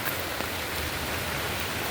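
Rain falls steadily in St Thomas, a constant, even hiss of drops that fills the whole moment with no voices and no breaks.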